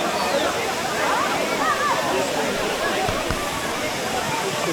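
Ourika waterfall in Morocco's Atlas Mountains crashes with a constant, loud rushing roar of falling water, steady throughout, with voices faintly mixed into the noise.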